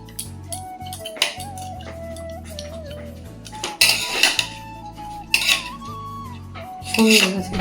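A fork stirs and spreads cooked rice through a metal pan, giving repeated scraping clinks and rattles, some louder bursts, over soft background music.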